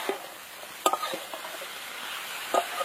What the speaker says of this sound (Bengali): এবার ডুমুর দিয়ে ভালো করে কষাতে হবে।